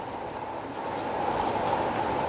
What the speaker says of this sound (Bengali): এখন অনেক বৃষ্টি পড়ছে